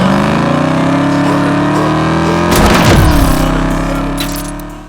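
A 1990 Ford Mustang LX 5.0 V8 coupe with automatic transmission drives along, its engine droning steadily and rising in pitch as it accelerates near the middle, loud and close with no talking.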